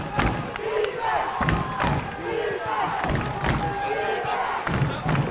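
A home crowd at a high school football game roars and cheers for the Titans on a third-down defensive stand, a dense, continuous swell of voices with thumping stomps and shouts, loud and close throughout.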